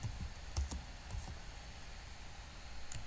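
Faint, sparse clicks of typing on a computer keyboard, a few separate keystrokes tapped at an unhurried pace over a quiet hiss.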